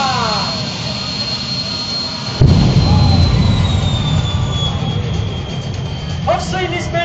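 A drag-racing jet car fires up with smoke and flame, a steady loud turbine whine and roar that jumps into a heavier, louder blast partway through and keeps roaring to the end.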